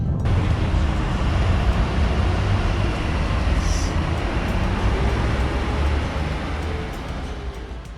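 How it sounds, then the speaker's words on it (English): A loud, steady rumble of a train passing directly overhead as the listener goes underneath it in Kunming, China, roaring continuously before slowly easing off at the end. "Oh, the train. We're going under the train."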